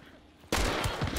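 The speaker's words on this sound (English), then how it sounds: "No, that's two shots." Gunfire in a shooter video game: a sudden loud burst of shots after a brief quieter lead-in, sharp and close.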